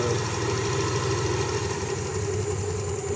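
A car engine idles smoothly during a cylinder balance check after injector work, a loud, close, even rumble with a steady rhythmic pulse.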